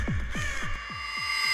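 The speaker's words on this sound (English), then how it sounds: "the bird, with a rustle of its feathers, only scoffed at Christopher's attempt to communicate" A crow caws about six times in a steady rhythm, the harsh calls fairly close and loud, with no talking.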